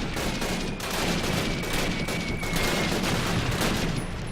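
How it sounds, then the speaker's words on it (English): Gunfire from an M1 carbine in the Call of Duty video game, a dense continuous stretch of battle noise with overlapping shots and steady loud rumble throughout. "My M1 carbine must be more powerful than I thought."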